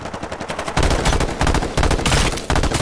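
AK rifle gunfire in the battle royale video game H1Z1 rattles out in loud, sustained automatic bursts, a lighter rapid stutter giving way to heavy continuous volleys that break briefly between strings.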